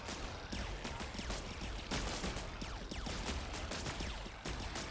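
Rapid crackling volleys of spore launchers firing in the RTS autobattler Buggos, dense overlapping bursts going on continuously at a moderate distance.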